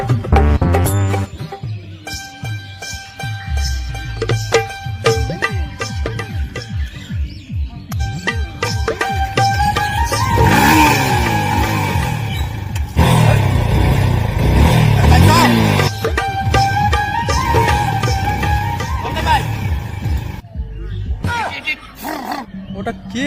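A motorcycle engine revs nearby, its pitch rising and falling in throaty surges, especially loud in the middle stretch, while people talk over it.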